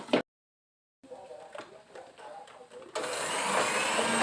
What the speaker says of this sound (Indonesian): Masih mixer.